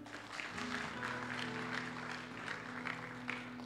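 Congregation applause during a church service, a steady wash of many hands clapping at a moderate level with sustained keyboard or organ tones running beneath.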